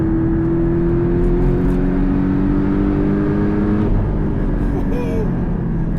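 A 2018 Porsche 718 Cayman GTS with a turbocharged four-cylinder pulls hard uphill at altitude, its engine note rising steadily in pitch through the gear before easing off near the end, close and loud inside the cabin.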